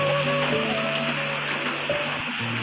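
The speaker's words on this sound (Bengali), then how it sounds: "এখান থেকে বুঝতে পারছো কেমন জোরে বৃষ্টি পড়ছে।" Downpour during the 2024 Kerala flood drums on surfaces in a thick, unbroken hiss, loud and near, with no voices.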